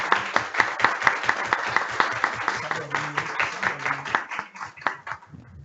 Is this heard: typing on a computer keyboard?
no